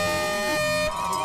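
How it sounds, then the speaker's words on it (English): A loud, sustained air horn blast starts a race, with a steady, brassy tone and voices faintly underneath. "With the sound of an air horn, the first race got underway"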